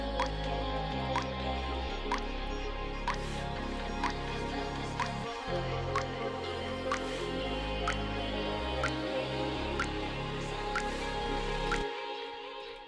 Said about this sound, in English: I think a drip snap could actually be a vibe though